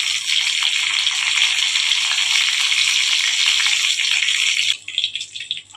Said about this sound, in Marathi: आता त्याच्यामध्ये मी थोडंसं जिरं आणि थोडेसे मोहरी घालते